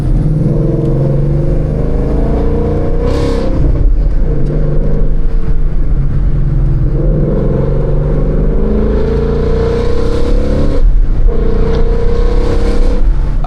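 A Ford Mustang 5.0 V8 revs and pulls hard in repeated surges, its deep engine note climbing through the gears up close with brief dips between pulls.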